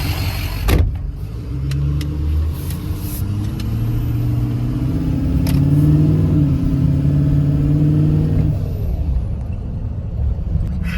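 Ford Excursion with a very short exhaust driving, loud engine drone rising and falling through gear changes, heard from close by with a few clunks and no voices.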